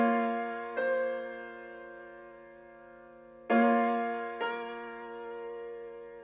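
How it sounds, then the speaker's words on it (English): Sustained piano keys chords from a Studio Grand ambient piano patch in an FL Studio hip-hop beat, struck twice here about three seconds apart, each ringing and slowly decaying, with faint ticking beneath, no voices. "Then after that I wanted to add some keys that was just hitting every 2 bars"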